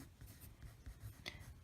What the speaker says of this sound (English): I just grab my handy dandy pencil here and I will write down what I did here